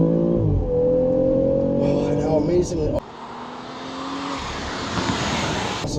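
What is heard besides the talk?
BMW X3 M40i inline-six engine accelerating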